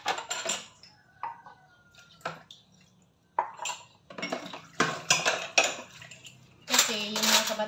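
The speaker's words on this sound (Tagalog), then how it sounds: "Lalo na sa paghuhugas ng pinggan." Plates, cutlery and glasses clatter and clink during dishwashing in a home kitchen, coming in irregular bursts of sharp metallic and ceramic knocks with brief pauses, a denser flurry near the end.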